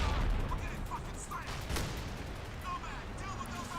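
Bursts of enemy gunfire from the video game Crysis crackle and rumble for several seconds at moderate volume, partly under people talking.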